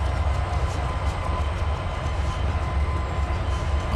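An SD80 diesel locomotive rolls along in the Trainz 2022 railroad simulator, a steady, close rumble of engine and wheels on track with no voices.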